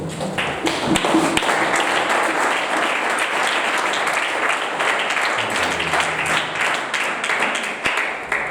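A church congregation applauds the Lord in sustained, dense clapping that stays loud and steady throughout, with a few sharper taps and faint voices mixed in.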